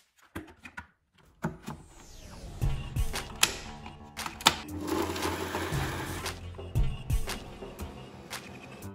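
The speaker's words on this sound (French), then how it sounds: "Je vais dans un premier temps mixer les oignons." A Mambo Habana 12090 kitchen robot chops onions in short, loud bursts of mechanical whirring and clattering up close, separated by brief pauses, with no talking.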